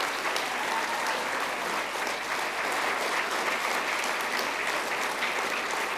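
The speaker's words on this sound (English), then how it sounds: "Let's give them a round of applause too." An audience at the Queensland Literary Awards ceremony gives the judges a round of applause. The clapping is dense, loud and sustained from start to finish.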